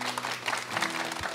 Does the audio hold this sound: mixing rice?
no